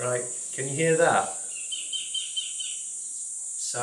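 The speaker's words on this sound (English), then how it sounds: "Silence, just birds." Birds calling at a quiet beach resort in the Philippines, faint high chirps repeating steadily through a calm background after a brief spoken voice at the start.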